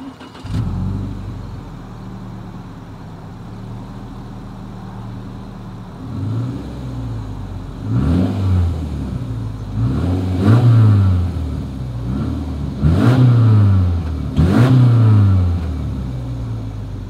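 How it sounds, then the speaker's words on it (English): A 2021 Subaru Crosstrek exhaust idles low, then revs repeatedly in short bursts, each rise and fall growling louder, recorded close with no talking. "you guys know what we have to do next as always here is that exhaust clip"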